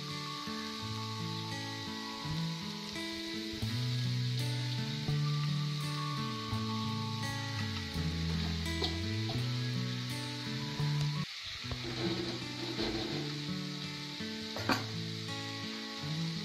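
Paneer goes into a hot pan and is stirred, a steady sizzle and soft scraping of the spoon running throughout beneath tuneful background music.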